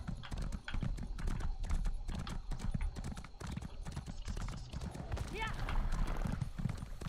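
Horse hooves clip-clop steadily in The Elder Scrolls Online, a continuous rhythmic trot that runs the whole way through under ambient game sound.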